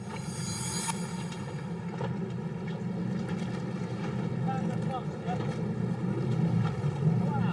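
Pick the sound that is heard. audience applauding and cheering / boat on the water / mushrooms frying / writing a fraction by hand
boat on the water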